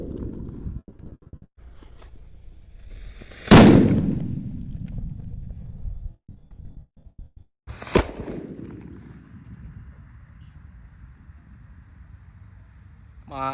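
A Banaspati firecracker wrapped in paper goes off outdoors with a sharp blast, followed by a trailing rumble. A second loud crack comes a few seconds later, and quieter background noise lingers between them.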